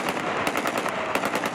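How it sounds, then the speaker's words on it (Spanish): Rapid bursts of celebratory gunfire shot into the air by Syrian Islamist rebels marking the fall of Bashar al-Assad, dense overlapping cracks rattling continuously like automatic fire, loud and close with no talk. "Con disparos al aire, los rebeldes islamistas sirios celebraron la caída de Bashar al-Assad."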